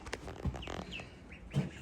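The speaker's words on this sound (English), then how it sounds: "3 beautiful little ducks." Three small ducks in a coop shared with chickens give soft quacks and chirpy calls, with a couple of louder bursts over light shuffling background noise, with no talking.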